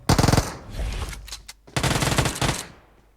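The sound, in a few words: gunfire in the video game PUBG Mobile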